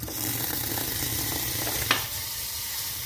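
Butter sizzles steadily in a hot pan for buffalo wing sauce, a dense close hiss that holds throughout, briefly interrupted by a small clink midway, with no voices.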